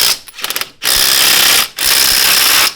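A ratchet tightens lug nuts on a Honda Pioneer 520, giving a quick clicking run followed by two long, loud, continuous ratcheting bursts, very close and alone.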